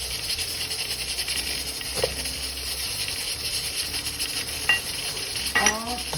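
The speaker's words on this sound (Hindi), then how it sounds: "ऑयल हमारा काफ़ी गर्म है। तो अब मैं इसके अंदर चिकन डाल देती हूँ" Chicken fries in hot oil in a pan while cooking shaljam chicken, a steady close sizzle broken by a few sharp utensil clinks and stirring scrapes.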